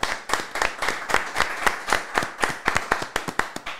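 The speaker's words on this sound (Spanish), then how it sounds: "Un aplauso para el" Clapping during a Venezuelan artist's interview, a small group or a few people clapping briskly and unevenly at close range, with no talk over it.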